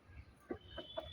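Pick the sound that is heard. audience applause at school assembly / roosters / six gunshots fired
roosters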